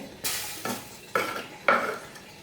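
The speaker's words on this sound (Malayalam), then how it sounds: "നമ്മുടെ ചക്ക നന്നായിട്ട് ഞാൻ മിക്സ് ചെയ്തെടുത്തിട്ടുണ്ട്" Chopped raw jackfruit is stirred and mixed in a pot with four distinct, close scraping strokes, each giving a brief wet rustle.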